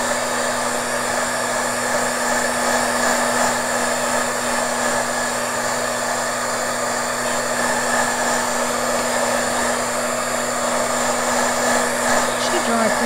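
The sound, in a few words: hair dryer drying hairspray-coated paper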